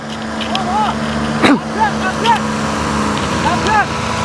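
Boat engine revving up, a loud, steady droning motor with rising and falling pitch, while someone shouts over it.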